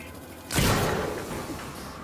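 A bolt gun strikes an android in Alien: Isolation, a sudden heavy thud with a whooshing burst of impact that decays over about a second, loud and close with no talk.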